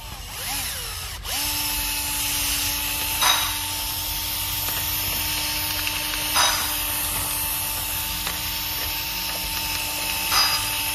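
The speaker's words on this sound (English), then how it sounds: "Just got this little wire extension on a angle drill. We're gonna use it to clean our holes out." A power angle drill spins up and holds a steady whine, with three periodic scraping bursts as a wire brush grinds against metal, cleaning injector cup holes in a CAT C7 diesel engine, close and loud.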